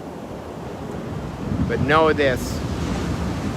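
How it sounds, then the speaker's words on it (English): Powerful ocean waves rolling onto a beach, seen from a distance, give a steady broadband roar of surf and wind noise, swelling briefly near the middle while a voice speaks over it. "show you from a distance these powerful waves coming in"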